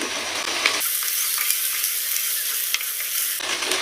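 Chicken sizzles in a pan with garlic and ginger over a medium flame, a bright steady frying hiss that fades briefly in the middle before returning, with a few sharp stirring clinks.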